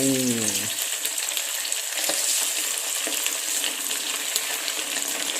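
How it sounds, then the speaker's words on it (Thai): Sun-dried pork fries in hot oil with a loud, steady, close sizzle and crackle that continues throughout, following a brief voice at the very start. "มาเรามา ทอดกันดีกว่า"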